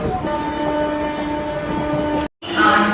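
A passenger train runs loudly with a steady rumble and a sustained horn-like tone, interrupted by a brief silent gap before the noise resumes.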